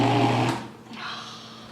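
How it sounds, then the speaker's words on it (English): A juicer motor burning out and smoking drones with a loud steady whine that drops away, then a weaker strained hum continues, close by. "Oh, we just burnt the motor out."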